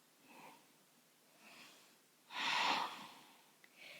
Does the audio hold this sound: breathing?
yes